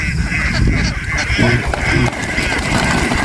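Ducks calling in a new pasture, a loud, dense chorus of quacks and honking calls close by, with a voice speaking partway through.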